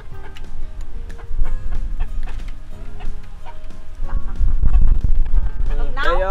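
A flock of Rhode Island Red chickens clucks and calls in a coop, with repeated loud bird cries over a busy background and a person talking nearby.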